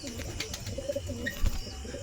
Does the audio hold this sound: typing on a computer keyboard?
no